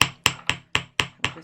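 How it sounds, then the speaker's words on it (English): A tiny wire-wrapped jewellery earring piece struck with a hammer, seven sharp, ringing metallic taps at a steady, fairly quick rhythm, close and clear with no talking. "we're going to move on to hammering this piece now"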